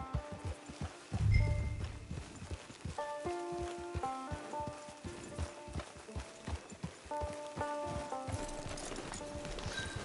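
Horse hooves clip-clop in a steady walking rhythm, close by, over soft game music with a brief snort early on, in the video game Red Dead Redemption Online.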